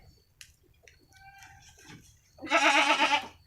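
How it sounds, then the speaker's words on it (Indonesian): Jawa Randu goats in a village pen give one loud, wavering bleat near the end, after a stretch of quieter scattered calls and shuffling. "Ini merupakan kambing Jawa Randu ya, kambing Jawa Randu semua di sini ya"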